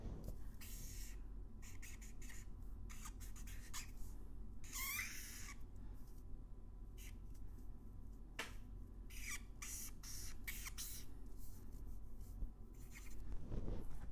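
A blue marker drawing a shark on a surface, scratchy squeaking strokes in short bursts with pauses between them, close and faint over a low background hum, no talking.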